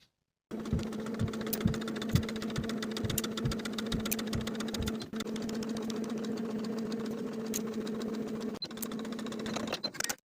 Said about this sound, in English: Now I'll sew the binding all the way around from center front to center front with about a 1/4 inch seam allowance